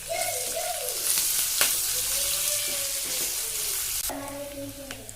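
Masala frying in a pan hisses loudly and continuously, with intermittent scraping and clinking from stirring and a sharp clatter near the end.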